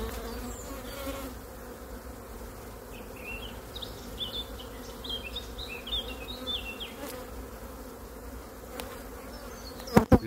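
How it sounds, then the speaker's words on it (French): Dense, steady buzzing of many honeybees packed inside a crowded hive, heard up close and continuous throughout, with a couple of sharp knocks near the end. "Vous pouvez voir, c'est blindé d'abeilles."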